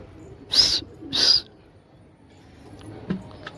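A flock of domestic pigeons takes off during kabutar bazi flying practice, with two loud bursts of wing flapping close by, then quiet surroundings with a few faint clicks.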